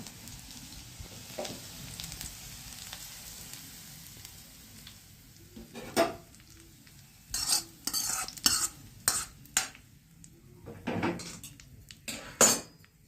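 Garlic tempering for Sindhi dal pakwan crackles in hot oil, starting quiet, then a run of sharp spatters and spoon clinks against the pot, close and without talk.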